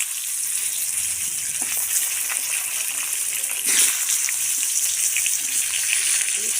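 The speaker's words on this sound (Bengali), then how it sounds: "এবারে আলুগুলো দিয়ে দেবো। আলুগুলো ভালো করে লাল লাল করে ভেজে নেব।" Potatoes fry in hot oil seasoned with black cumin, a loud, steady crackling sizzle close by with a brief surge partway through.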